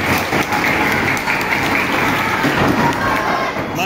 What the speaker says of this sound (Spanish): fuerte aplauso para Guille que estuvo ayudando ahí